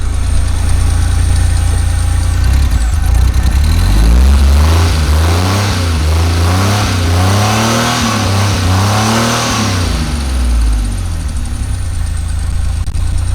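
A Pontiac Fiero GT's engine runs just after being started, loud and close, as the revs climb and fall in several repeated swells before settling toward a rough idle.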